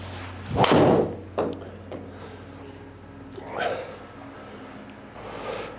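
A TaylorMade Qi10 Max driver strikes a golf ball once, a sharp close crack followed by fainter knocks and soft handling noises on the range.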